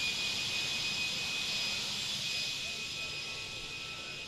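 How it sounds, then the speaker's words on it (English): A Fenix A320 jet engine runs in Microsoft Flight Simulator 2020, a steady high-pitched whine over a broad rushing roar that holds close and constant, tapering slightly toward the end. "the engine starts to run again"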